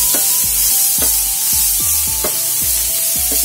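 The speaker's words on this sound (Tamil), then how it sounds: "இப்போ நம்ம நெல்லிக்காய் துருவி வச்சிங்களோ அதே இதில் போட்டுட்டு நல்லா வறுத்து எடுத்துக்கணும்." Grated gooseberry is stir-fried in sesame oil, with a spatula scraping the pan in a regular rhythm about twice a second over a constant close sizzle, and no talking.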